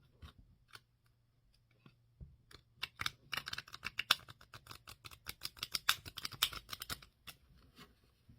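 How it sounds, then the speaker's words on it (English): A new tarot card deck is shuffled close by, with quiet soft flicks that build into a rapid rustling riffle of cards, faint overall and with no talk. "I've looked through each one, as you should do with any new deck, and I'll do some shuffling."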